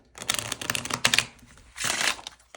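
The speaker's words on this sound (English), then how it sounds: "so let's shuffle this." A deck of 48 playing cards is shuffled in two quick riffling bursts, a crisp flutter near and clear with a short pause between.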